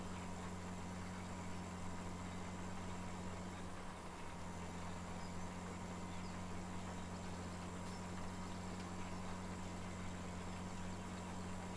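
Tractor engine in the video game Farming Simulator 17, a steady low idling rumble with an even hum throughout and no talking.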